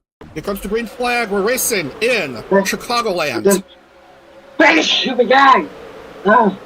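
A single close sneeze bursts out between a commentator's lines over an Indy Lights race start at Chicagoland, with talk before and after it.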